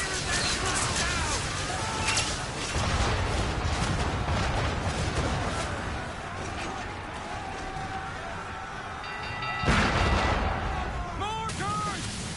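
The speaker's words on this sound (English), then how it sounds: "Mortars!" Mortar fire in the video game Assassin's Creed 3 booms through a dense, continuous battle mix of gunfire and explosions, with a louder burst near the end and voices shouting over the din.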